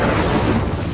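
A fiery whoosh and rumbling burst from the Incendio fire spell in Hogwarts Legacy, loud and dense, filling the whole short moment.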